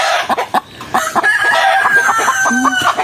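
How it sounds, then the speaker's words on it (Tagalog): Chickens, including a mother hen, cluck loudly and close, with a rooster's crow rising over the clucking throughout. "Pasaway talaga yung ating inahin."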